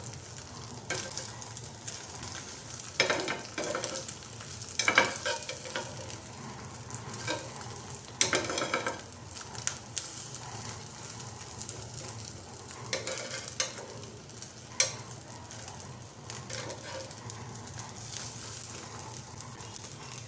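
A sandwich sizzles in a hot pan while a spatula shifts and repositions it, with several scraping clicks over a steady low frying hiss throughout.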